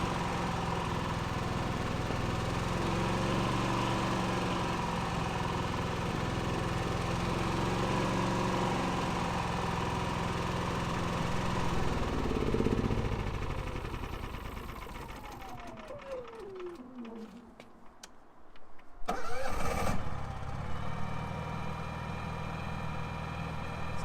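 A Senci SC8000i 7 kW inverter generator idles steadily nearby with a faint wavering in pitch, then dips briefly and picks back up near the end; no one speaks.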